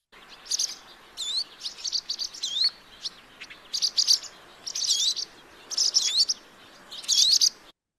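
Repeated sharp, high chirps and short whistled notes from a barn swallow, alarm calls, some double-noted, coming in bursts about once a second over faint background hiss.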